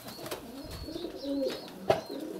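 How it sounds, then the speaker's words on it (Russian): Pigeons in a village dovecote coo softly and close by, a few low burbling calls with faint rustles and a brief sharper sound near the end. "Такой интересный голубь."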